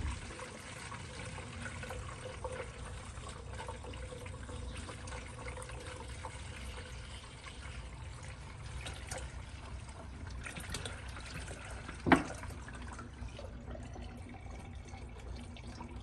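Distilled water trickles and pours steadily into the coolant system of a Dodge Hellcat, a faint continuous liquid dribble with one brief sharp knock partway through.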